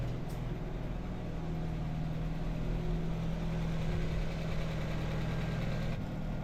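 An old engine revived after sitting for 20 years, smoky and burning off residue from its exhaust manifold, idles steadily with a low, even rumble and a faint mechanical vibration throughout.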